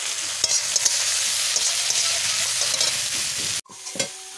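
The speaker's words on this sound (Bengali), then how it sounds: "এই টমেটোটা ভাজা হয়ে গেছে।" Ripe tomatoes frying in a pan with onions, producing a steady close sizzle with occasional stirring taps, then a sudden drop to quieter hiss near the end, with no speech.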